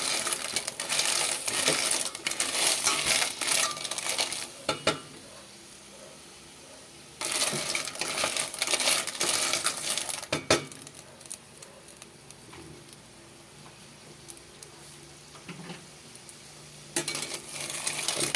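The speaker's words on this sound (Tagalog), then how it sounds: "magigisa po tayo ng halaan" Halaan clams sautéing in a pan, bursts of dense clattering shells scraping and tumbling against metal, interrupted by quieter pauses, close and fairly loud.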